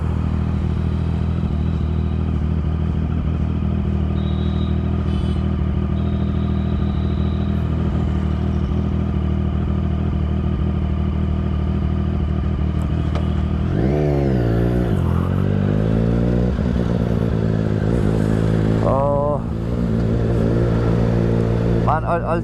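A Triumph Street Triple 675 motorcycle rides through morning traffic on a foggy, freezing winter day in Delhi, its engine droning loud and steady with rising revs near the end, while a rider's voice talks over it.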